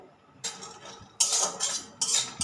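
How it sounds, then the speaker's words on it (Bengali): A metal spatula scrapes and rattles in a dry wok while peanuts roast, in a few separate bursts with quiet pauses between the stirring strokes. "শুকনো কড়াইয়ে দেব, দিয়ে এটাকে হালকা করে ভেজে নেব"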